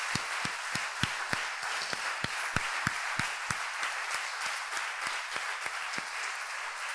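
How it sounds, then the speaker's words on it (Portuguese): A church congregation applauding during a sermon: a steady wash of clapping with distinct sharp claps punctuating it in a quick regular beat, moderately loud from start to finish. "Você pode aplaudir Ele por isso?"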